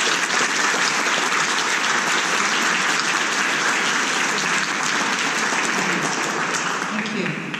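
An audience at an architecture talk in Toronto claps for several seconds, a dense, even wash of applause that holds steady throughout and fades slightly at the end.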